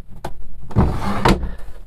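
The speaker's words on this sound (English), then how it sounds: "We have similar drawers, which are pretty deep" Deep storage drawer aboard a 2009 Broadblue 415 catamaran being worked, with a few sharp knocks followed by a sliding rumble and a firm thud close by.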